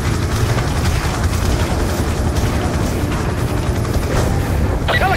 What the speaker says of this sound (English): We're taking fire from all sides!